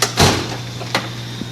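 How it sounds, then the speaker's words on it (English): Metal tool chest drawer pulled open, heard as a few short, close sliding clunks and rattles with brief pauses between them, and no voices. "Next drawer."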